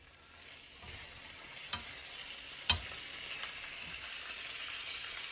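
Pork dan dan noodles and a couple of handfuls of greens fry in a pan with a low, steady sizzle and stirring, broken by a few sharp spits and pops.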